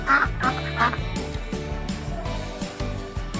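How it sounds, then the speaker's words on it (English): A duck quacks a few times in quick succession near the start, followed by a steady low background rumble. "duck,"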